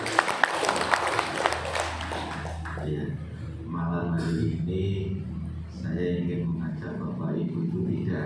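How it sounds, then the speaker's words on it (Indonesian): An audience at a community coordination meeting in Sukorejo applauds the police chief, a brief burst of clapping that fades after a few seconds into a voice talking over a humming hall. "Tepuk tangan untuk Pak Kapolsek."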